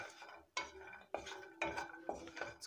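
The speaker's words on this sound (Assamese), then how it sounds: "ড্ৰাই ফ্ৰুটস খিনি ভাজি লম।" Cashews, raisins and almonds are fried in butter in a pan and stirred with a utensil, giving four or five distinct scraping clatters against the metal at a quiet level, with no talk.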